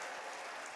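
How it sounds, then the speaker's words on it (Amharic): Congregation applause in church comes as a steady, dense wash of clapping filling the short moment at moderate level. No ululation stands out. "እስቲ እልልታ ጭብጨባ ምስጋና አምጣ።"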